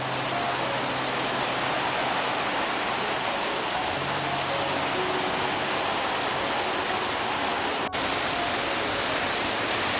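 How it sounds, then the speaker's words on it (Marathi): Heavy rain pours steadily over farm fields during the rice-planting season, a dense, continuous hiss that fills the scene at a constant loud level for the whole stretch with no talking. "पाऊस अजून जोरात आला आहे"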